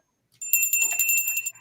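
Bright metallic bell rung once by hand in a talk-show studio, a sustained clear ring with shimmering overtones that holds steady for about a second before stopping abruptly.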